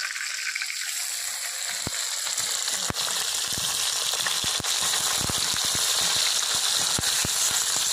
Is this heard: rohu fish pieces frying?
yes